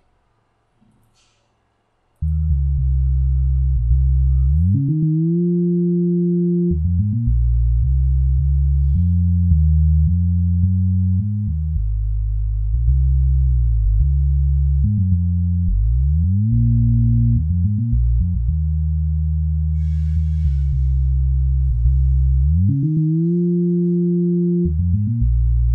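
A smooth, sine-like synth bass from FL Studio's Sytrus plays a sustained, loud bassline that shifts between low notes and gliding pitch slides, alone without other instruments.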